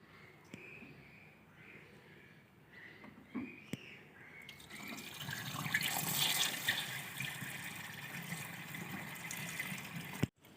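Water runs from a hose tap into a tractor, starting as a faint trickle and swelling into a steady, louder rush of filling water close by.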